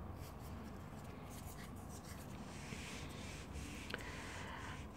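Pen scratching steadily across paper by hand, a soft continuous scribbling close by with small bumps of movement throughout.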